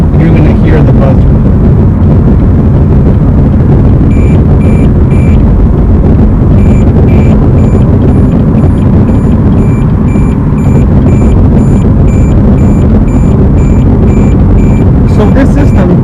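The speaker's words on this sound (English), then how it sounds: "without having to look at the LED, you're going to hear the buzzer" A USA SPEC BSM200 aftermarket blind spot monitor buzzer in a 2019 Corvette Z06 beeps in regular repeating pulses over loud, steady road and engine noise while driving, pausing briefly and then resuming.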